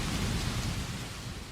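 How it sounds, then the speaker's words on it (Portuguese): A dense, steady roar of a thunderstorm on a stormy sea, with heavy rain and a continuous low rumble of thunder, loud and unbroken, with no voices. "E Jesus, olhando para aquela tempestade, disse: acalma-te"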